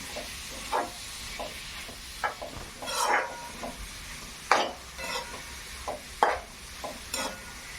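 Momo filling stirred in a pan, with a spoon scraping and clacking against the pan in irregular near strokes over a steady sizzle of frying.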